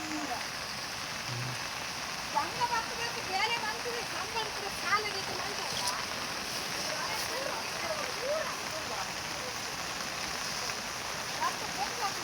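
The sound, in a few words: floodwater from heavy rain rushing into plantation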